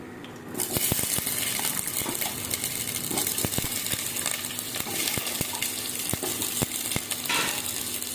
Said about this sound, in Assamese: কেৰাহীটো গৰম হৈ গ'ল মই আলুখিনি দি দিওঁ